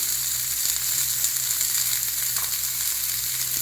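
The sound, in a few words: onions sizzling in hot oil in iron pan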